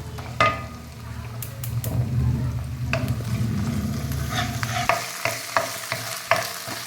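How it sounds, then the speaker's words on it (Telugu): Ginger garlic paste frying with onions in a pan for mushroom curry, a steady sizzle with scraping stirs and occasional spoon knocks against the pan, loud and close, with no talking. "ఇప్పుడు అల్లం వెల్లుల్లి పేస్ట్ పచ్చివాసన పోయే వరకు వేసుకుందాం"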